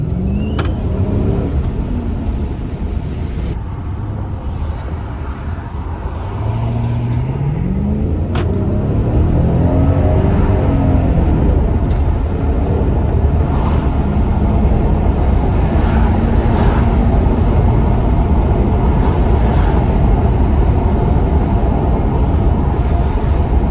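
A Mercedes CL500 engine runs steadily and fairly close, a continuous low rumble with a faint rising whine partway through, no talking.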